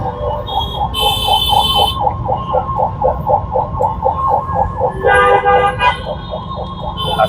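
Ambulance siren wailing in a rhythmic, repeating pattern through a Dhaka traffic jam, with car horns honking over it, close and loud amid street noise, and a person talking nearby.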